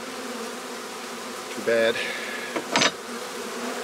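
Honey bees buzz close by at a hive during removal of a feeder rim, a steady insect drone with a few sharper bursts as bees fly near, under brief speech.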